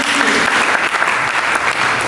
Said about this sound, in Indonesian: Mari kita berikan tepuk tangan kepada Yesus.